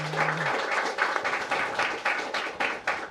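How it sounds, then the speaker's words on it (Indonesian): A studio audience claps for a guest named Bu Sandra on an Indonesian talk program, sparse to moderate hand clapping with distinct individual claps, steady and fairly soft, a short low tone at the very start. "Kita berikan tepuk tangan buat Bu Sandra"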